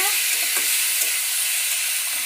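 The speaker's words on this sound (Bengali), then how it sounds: "এবার ঢাকা দিয়ে একটু কষিয়ে নেব" Rohu fish curry with ridge gourd sautéing in a covered pan, heard as a loud, steady hiss of frying with a few faint stirring clicks underneath and no voices.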